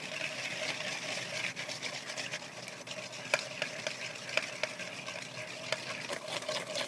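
A spoon works peanut butter, syrup, vinegar and soy sauce into a dressing for sesame noodle salad, a steady wet churning with quick scraping clicks against the bowl, close and unvoiced.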